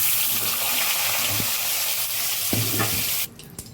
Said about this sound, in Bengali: তো পটলগুলো এখন এইভাবে ভেজে নিতে হবে